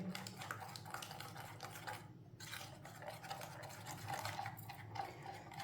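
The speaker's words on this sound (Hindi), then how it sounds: "अच्छी तरह मैंने मिक्स कर लिया है।" Gram flour batter is stirred in a bowl, with a continuous soft scraping and sloshing as the spoon works the thick mixture, fairly quiet and without talk.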